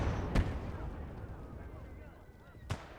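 Artillery shells fired in a video game battle: two separate heavy booms, one early and one near the end, over a steady rumbling battlefield background, with a voice talking faintly underneath.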